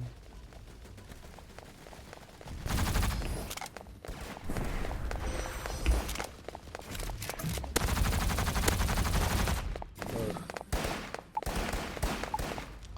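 An AK rifle fires in a Roblox shooter game in repeated rapid bursts of gunfire, loud and dense, with short pauses between volleys and no talking.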